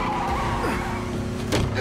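A car skidding in the Spider-Man 2 video game: a loud engine roar with a sliding tire squeal that bends in pitch, followed by a brief sharp burst near the end, close and continuous.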